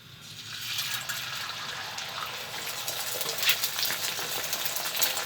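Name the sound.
eggs frying in a pan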